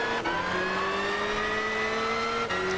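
A race car engine roars steadily at high revs in the racing video game Gran Turismo 6, its pitch climbing through gear changes, loud and continuous with no voice over it.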